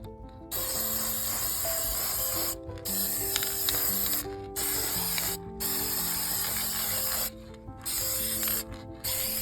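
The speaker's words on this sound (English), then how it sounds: "I started with a black spray paint as my base coat, and then I layered copper over top" Black base coat and then copper spray paint hissing from aerosol cans onto a thrifted cottage-decor cloche base, in several steady bursts with short pauses, over soft background music.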